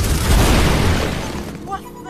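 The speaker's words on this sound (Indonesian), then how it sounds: "Wei Suo pun kemudian melemparkan sebuah jimat untuk mencobanya dan boom, jimat tersebut meledak." An exploding talisman in an animated cultivation series: a single loud, broad blast that erupts early and decays over about a second, followed by a quieter tail with a brief tonal effect.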